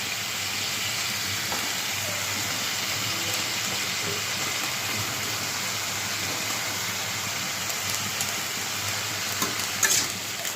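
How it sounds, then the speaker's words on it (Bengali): Onion stalks and potato pieces fry in a pan with a steady, bright sizzle, a continuous hiss with occasional small crackles and a few clatters near the end, heard close and without speech. "তো পেঁয়াজের কলি আলুটা ভাজি বসিয়ে দিলাম"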